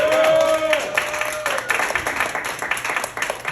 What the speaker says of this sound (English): let's give a round of applause for all the comedians who are here